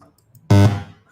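A single loud entropy donation alert chime rings out on a livestream, one bright tonal burst that rises abruptly, holds briefly and then decays over under a second, alone with no talking.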